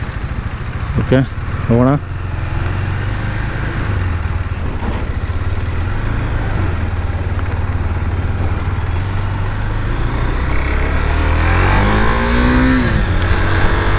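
A KTM Duke 390 motorcycle, 43 bhp and 37 Nm, fires up and revs, its engine droning steadily and then rising in pitch as it pulls away, with a voice speaking briefly over the start.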